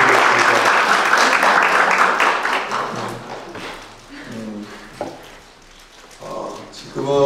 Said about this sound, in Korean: 그래서 또 감사의 박수 부탁드리겠습니다.